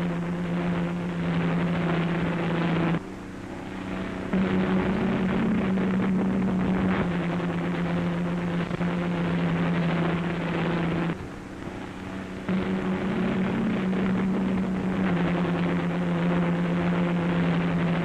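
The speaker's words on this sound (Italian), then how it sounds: "Il motore in azione." A Fiat engine fuelled by liquid methane runs on a test bench, giving a loud, steady droning hum with a strong low tone, briefly dipping twice before resuming at full level.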